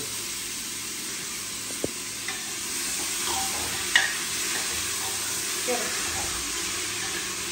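Finely chopped onions fry for chole in a pan, giving a constant bright sizzle with a few scraping stirs and utensil taps. A voice talks faintly under the cooking.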